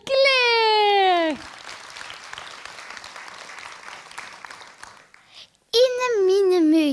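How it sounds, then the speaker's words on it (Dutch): Applause from an audience at a Limburg dialect recitation contest final for a child reciter, steady clapping lasting several seconds between stretches of a sung or voiced tone, then fading out. "Dames en heren, geef een groot applaus"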